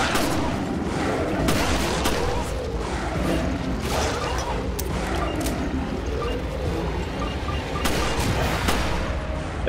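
Dense, steady gunfire from the video game Resident Evil Revelations, with repeated sharp shots and crashes layered over a continuous battle din throughout.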